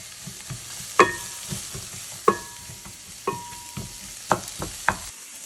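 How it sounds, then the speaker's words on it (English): Chopped vegetables saute in a small pan for mushroom chili, giving a soft, steady sizzle under a few sharp clinks of a utensil against the pan, close and fairly quiet with no voices. "you hear that sizzling?"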